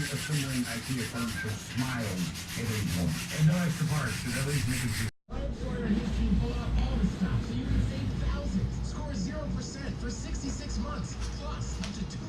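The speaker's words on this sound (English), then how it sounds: "we're sanding it with some 220 grit" Continuous rhythmic rubbing of 220-grit sandpaper over a vinyl seat, close and fairly loud, with a brief cut partway through.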